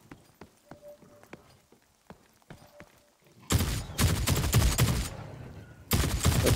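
Hip-fired weapon bursts in The Cycle Frontier: sparse quiet clicks and footsteps give way to loud, rapid automatic gunfire, a pause, then another close burst.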